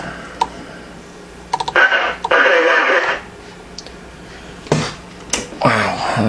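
A Cobra 29 LTD Classic CB radio hissing with bursts of loud static as squelch opens and closes, broken by clicks from the controls and someone talking between bursts.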